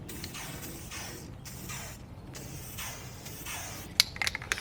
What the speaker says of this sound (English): Doesn't want to stop spraying. It really likes spraying